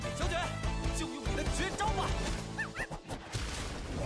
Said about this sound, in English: I remember this little dog.